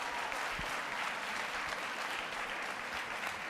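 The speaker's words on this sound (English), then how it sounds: "Give these people a round of applause." Steady, dense applause from an audience at a school writing challenge program event, a continuous wash of clapping that holds at an even level throughout, heard fairly far off.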